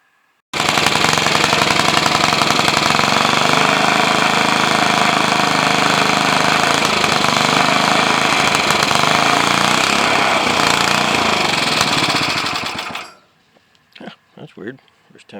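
A rebuilt Briggs & Stratton Model N small engine runs with a loud, close, rapid putter for about twelve seconds, then dies out, leaving a few faint knocks and handling noises.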